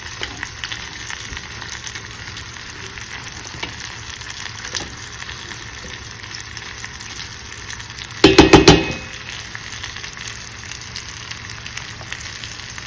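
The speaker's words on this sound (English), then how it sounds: "So we're going to let the shrimp cook a little bit." Shrimp cooking in a jambalaya pot give off a steady, moderate sizzle throughout, with a brief louder burst of clattering stirring near the end.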